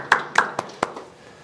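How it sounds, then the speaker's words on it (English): A few scattered hand claps from a small audience thanking sponsors, about four distinct sharp claps spaced evenly, then fading out quietly. "So a big round of applause for them."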